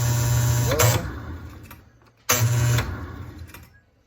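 A homemade garage winch motor runs in reverse in two close, loud whirring bursts, each about a second long, with a hum that winds down after each burst.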